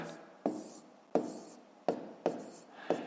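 Pen or pencil writing numbers by hand on paper during long division, with about five distinct taps and scratchy strokes in an uneven rhythm, close and fairly quiet.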